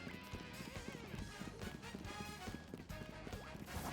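Horse hooves clip-clop in a Pokémon video game, a steady trotting rhythm of hits blended with a busy game soundtrack and effects, fairly loud and continuous throughout.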